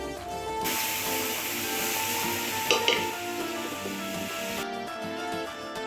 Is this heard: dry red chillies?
yes